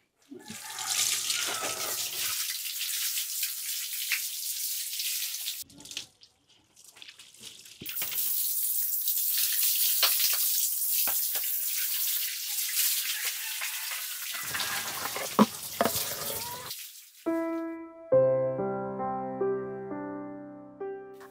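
Running water splashes over clothes being scrubbed by hand with laundry soap, a close, continuous gush broken by short pauses, ending with a few notes of music.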